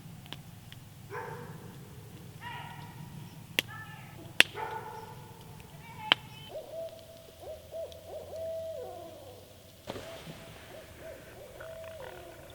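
A barred owl hoots in a long series of calls at night near a campsite at Sugar Bay, Land Between the Lakes, with sharp clicks and a background murmur.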